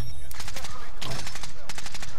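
A machine gun lays down suppressing fire in Call of Duty: Modern Warfare, with loud, rapid bursts of automatic shots close by, a short break, then another sustained burst.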